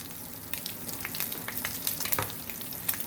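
Meat fries in a pan with a continuous close sizzle, punctuated by frequent sharp crackles and pops.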